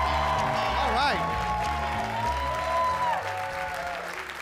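A comedy club audience claps and cheers for a comedian at Gotham Comedy, steady applause filling the room while someone speaks over it through a microphone.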